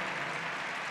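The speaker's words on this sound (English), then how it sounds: "we owe them a round of applause" Dense applause from a large convention crowd, a steady wash of clapping throughout the short moment, with no voices standing out.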